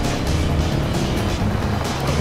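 Racing kart engines from the ModNation Racers video game on the Miner's Rift track, a dense continuous motor roar with passing whooshes from nearby karts, loud and steady throughout.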